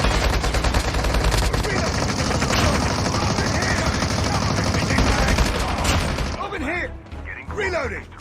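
Sustained automatic gunfire in the mobile shooter Call of Duty Mobile during a Battle Royale squad fight, dense rapid bursts that are loud and continuous, followed by quieter mechanical clicks and chirping effects at the end.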